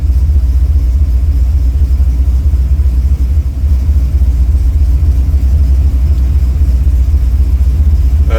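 A cold-blooded carbureted car engine idles steadily with the choke pushed in, running on a Carb Cheater fuel system; a constant low rumble holds close and even throughout, with no talk.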